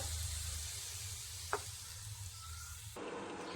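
Beetroot simmers in water in an open pan with a steady sizzling hiss, a single short scrape of stirring cutting through midway.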